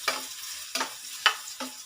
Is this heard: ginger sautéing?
yes